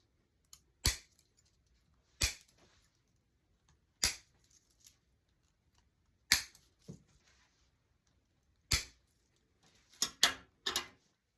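Flower stem ends trimmed for a spring wreath with scissors, giving a series of sharp, crisp snips spaced a couple of seconds apart, then a quick cluster of three at the end, all in near silence.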